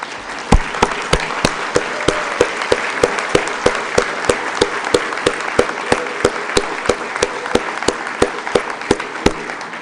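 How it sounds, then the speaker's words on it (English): An audience at a school diploma ceremony applauds steadily, a continuous wash of many hands with a few sharper, louder claps recurring in an even beat, heard fairly close and without speech over it. "would our students please stand up so we can applaud you?"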